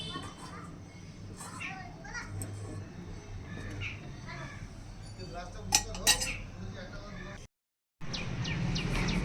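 A spoon scrapes and clinks against a pot of brewing tea, light metallic taps and stirring under nearby voices and children playing in the background.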